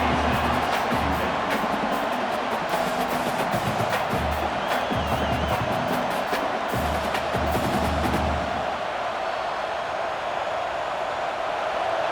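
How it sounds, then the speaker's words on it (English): Stadium crowd roaring throughout a college football game in the CFB 26 video game, Missouri at Texas A&M, a dense continuous wash of noise with rhythmic thumping underneath that eases near the end. "This place is roaring, and it's going to be so hard to operate under these conditions."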